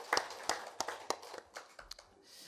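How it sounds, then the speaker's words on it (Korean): A church congregation at a Sunday evening worship service clapping for the worship team: a short run of scattered, fairly sparse hand claps, moderately close, with no talking over them. "귀한 찬양 인도한 우리 찬양단 위하여서 격려의 박수 하도록 하겠습니다"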